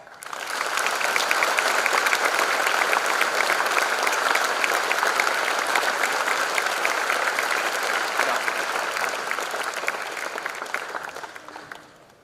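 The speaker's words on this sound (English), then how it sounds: "give them a big applause." An auditorium audience at a college freshers' induction programme gives sustained, dense applause for the parents. It holds steady and loud for about eleven seconds, then tapers off at the end.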